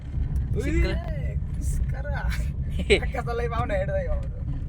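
A car being driven, its low engine rumble and road noise running steadily beneath almost continuous conversation from people inside.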